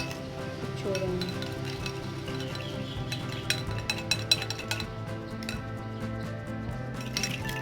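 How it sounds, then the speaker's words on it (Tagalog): A spoon stirs an egg and coffee face mask mixture in a bowl, with light repeated clinks and scrapes against the dish close by while someone talks over it. "Haluin lang po natin siya na mabuti."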